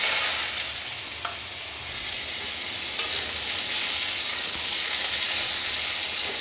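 Raw mango pieces fry in a little oil with dried red chili and mustard seed tempering, a loud, even sizzle and steamy hiss, close and continuous, with faint stirring and a couple of soft clicks.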